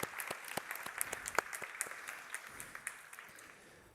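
A modest round of applause at an education and skills event livestream, scattered individual claps heard clearly at moderate distance, thinning and fading toward the end.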